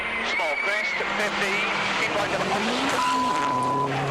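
A rally car in the WRC 2005 video game roars and skids through a badly botched landing after a jump on a Finland stage, engine whine and tire noise continuous and loud, with commentary over it.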